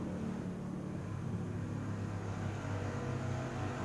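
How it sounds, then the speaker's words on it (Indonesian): Motorcycles, cars and other vehicles make a low, continuous traffic rumble at a distance. The sound is faint and steady, with no single pass standing out. "Ada suara motor, suara mobil, suara kendaraan"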